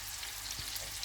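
Meatballs fry in a pan, giving a soft, steady sizzle and crackle of oil with a few small pops, heard close and fairly quiet.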